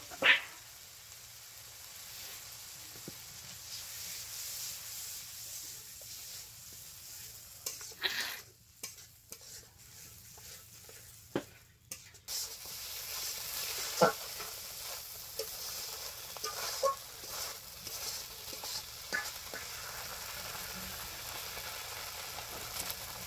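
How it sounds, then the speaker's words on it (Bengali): Spices with turmeric and chili powder and a splash of water sizzle in a pan while being stirred, a low hiss under occasional spoon scrapes and knocks, quiet and close, with no voices. "মশলা কষানো হয়ে গেছে"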